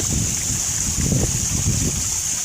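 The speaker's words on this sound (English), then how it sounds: "You hear the sound of the waterfall" Continuous rushing water from a small waterfall splashing into a pond, steady and moderately close, with a faint high hum over it.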